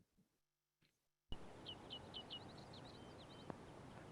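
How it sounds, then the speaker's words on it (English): Summer bird community on a commercial farm in central Iowa without a prairie strip: a steady series of high, repeated chirps and short song phrases over a broad hiss of ambient field noise, starting after a near-silent opening. "a recording in the summer of the bird community in a farm without a prairie strip"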